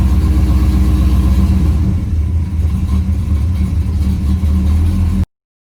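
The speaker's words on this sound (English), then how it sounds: "it's trying to pick up throttle right now because I'm accelerating it." A Camaro engine with a failing transmission revs loud and close under acceleration, a heavy continuous low drone with a slight dip partway through, then a sudden cut to silence.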